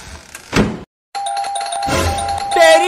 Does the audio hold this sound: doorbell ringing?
yes